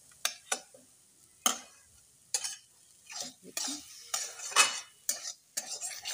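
Mixed home-grown greens being sautéed with oil and sugar in a pan, with intermittent scraping and stirring clatters of a utensil against the pan and a soft sizzle between strokes; no talking.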